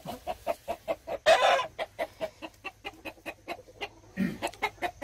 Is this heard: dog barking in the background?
no